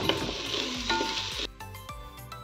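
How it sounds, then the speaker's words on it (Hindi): Soaked rice dry-roasting in a pan for kheer gives a bright, steady sizzle broken by several rhythmic scraping strokes of a spoon stirring the grains against the metal. "ये सारा चावल इसमें डाल देंगे और अच्छे से हम रोस्ट कर लेंगे।"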